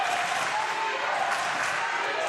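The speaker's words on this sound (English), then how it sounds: "Crowd getting into it." A basketball crowd at a college regional championship game cheering and applauding, a dense, steady wash of clapping and voices filling the arena, loud and continuous.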